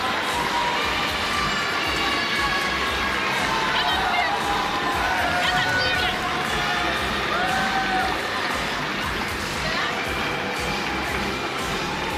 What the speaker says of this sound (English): Now the crowd can make some noise and cheer on their teams